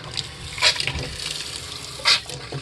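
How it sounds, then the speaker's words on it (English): Water runs steadily from a tap inside a 2021 Greyhawk 29MV RV with the water pump switched on, a continuous close hiss and splash with a couple of brief louder surges. "turn the water pump on"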